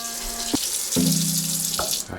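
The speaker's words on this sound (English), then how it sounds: "I can hear the water coming in." Water rushing steadily through a household faucet and its shutoff valve, a continuous hiss with a few clunks and shifts in flow as the valve is worked, close and fairly loud.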